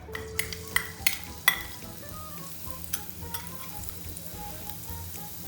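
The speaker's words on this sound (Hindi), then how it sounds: "हल्का सा सौटे करने देंगे" Garlic sizzling in hot oil in a kadai, a soft steady frying hiss with a few sharp clinks of a spoon against the pan early on, close and moderately quiet with no voices.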